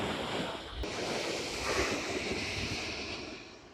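Ocean surf rolls steadily onto Los Frailes beach in Ecuador, a broad continuous wash of breaking waves mixed with wind noise buffeting the microphone, heard alone without voices.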